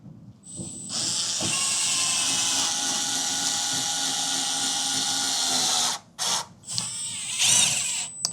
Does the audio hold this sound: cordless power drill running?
yes